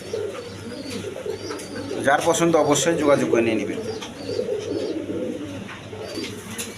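Giribaz high-flying pigeons coo in a low, rolling murmur through the whole stretch, with someone talking loudly over them at close range.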